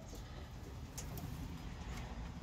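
Birmingham Roller pigeons coo softly in an open loft, a low steady murmur running throughout with a few faint higher calls and no talk.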